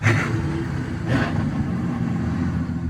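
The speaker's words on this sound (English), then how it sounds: "The motors started with a throaty roar" Deep, throaty roar of Mercury outboard boat motors on a foil-assisted powercat, swelling at the start, dipping, then surging again before settling into a steady, loud engine rumble.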